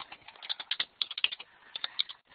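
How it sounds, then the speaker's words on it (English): Fingers type a quick note on a computer keyboard, a close, light run of irregular clicky keystrokes with brief pauses and no speech. "I'm going to just type Tess a note here real quick"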